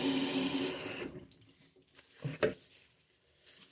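A bathroom tap runs water steadily up close for about a second, then stops, followed by a few drips, splashes and light handling sounds in the sink.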